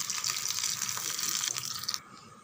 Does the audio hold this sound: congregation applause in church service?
no